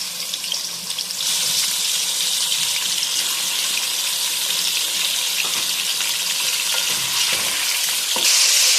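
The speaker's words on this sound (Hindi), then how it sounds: "घी हमारा गरम हो चुका है। अब हम इसमें 1 kg मटन ऐड करेंगे।" Bite-size mutton pieces for a Peshawari charsi karahi hit hot ghee, setting off a loud, steady broadband sizzle that holds close and continuous for the whole stretch, swelling slightly near the end.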